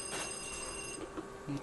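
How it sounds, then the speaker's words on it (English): A telephone rings inside a haunted mansion in the Luigi's Mansion video game during a power outage, a short burst of ringing tones under faint background talk. "the phone is ringing when the power's out"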